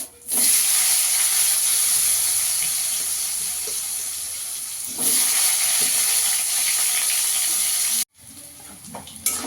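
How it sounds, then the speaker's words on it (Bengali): Potatoes frying in a pan, sounding as a loud, close, hissing sizzle that holds steady, surges again midway, then cuts off briefly near the end before resuming, with no voices. "আলুটা ভেজে নেব।"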